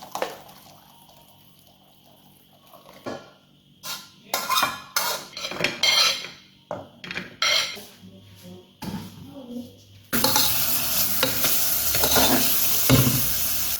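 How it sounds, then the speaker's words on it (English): Mincemeat frying in a pan: utensils and cutlery clatter and scrape against the pan in bursts, then a loud steady sizzle takes over for the last few seconds. "we're going to take the actual mincemeat to here and fry this first"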